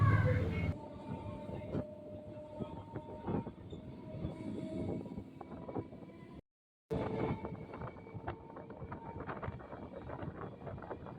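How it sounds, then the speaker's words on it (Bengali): A suburban train on the Sealdah–Budge Budge line pulls into Budge Budge station in South 24 Parganas, West Bengal, with a steady rolling rumble, wheel and track noise and faint squeals, briefly cut by a short silent gap before the noise resumes. "এখন ট্রেন ঢুকছে বজবজ স্টেশনে"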